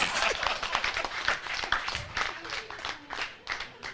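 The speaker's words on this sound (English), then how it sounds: "Can we give them a round of applause?" Club members at a Rotary Club daybreak gathering in Kampala give a round of applause, a dense patter of clapping hands sustained across the moment with some voices mixed in, moderately close.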